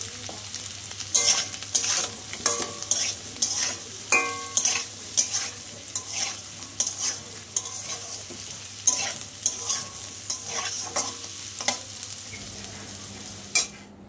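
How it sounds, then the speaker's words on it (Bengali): Potatoes and coconut with turmeric fry in a pan for a vegetarian Ashtami curry: a constant close sizzle with frequent metallic scrapes and taps from a spoon stirring against the pan. "আমি অল্প একটু হলুদ দিয়ে দিচ্ছি ভাজাটার মধ্যে।"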